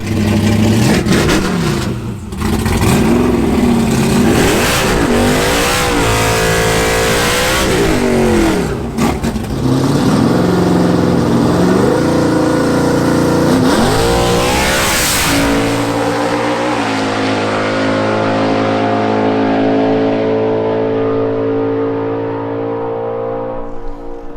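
A drag race car makes a loud full-throttle pass, its engine revving hard and climbing through several gear changes before the note falls away into a lower, fading drone.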